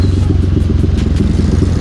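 Loud, close engine of a Yamaha Aerox scooter bored and stroked to 240cc, running with a rapid pulsing throb, a low rumble that swells slightly as it's given a little throttle in traffic.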